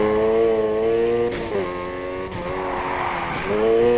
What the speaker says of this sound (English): I want to see you maintain the drift.